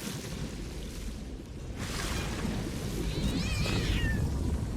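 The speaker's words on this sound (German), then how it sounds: "und eine Katze, die schreit" A cat screeches in a Sea of Thieves game, with wavering cries that rise over a steady roar of sea and wind aboard a ship.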